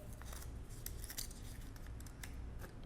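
Scissors snip notches into fabric at the markings of a clothing sewing pattern, a run of quick close crisp clicks and scrapes at low level, no talking.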